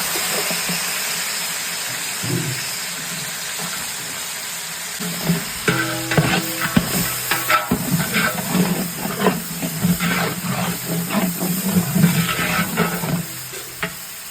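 Potatoes and carrots sizzle in a pot of oil while being stirred, a steady frying hiss broken by scraping, clattering stir strokes that grow busier midway.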